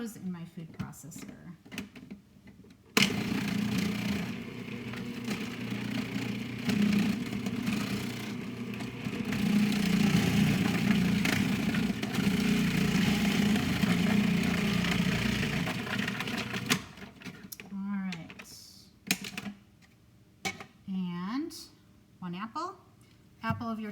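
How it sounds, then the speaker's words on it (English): Organic carrots, washed and trimmed, whir in a food processor, a steady loud motor drone running about fourteen seconds with short clatters before and after. "put those in my food processor"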